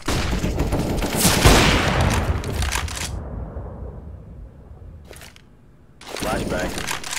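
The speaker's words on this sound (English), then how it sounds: "Deploying flashbang." A flashbang grenade going off in Counter-Strike: Global Offensive, a loud broadband burst with a sharp peak, then a quiet gap with a faint ringing tone before gameplay noise and voices return.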